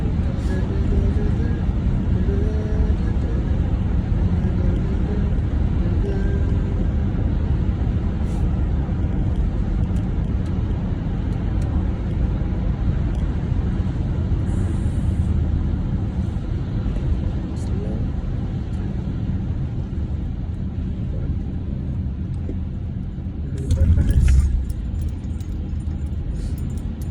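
Road traffic heard from inside a car on the way to Langley City, British Columbia, a steady low rumble of engine and tyre noise throughout, with people talking over it and a brief louder thump near the end.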